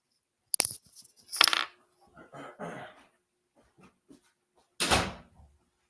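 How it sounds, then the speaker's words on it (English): A door in a sports radio studio is handled and shut: a few scattered clicks and knocks, then one solid closing thud near the end, heard close with no speech. "Let me close this door behind me, Spark."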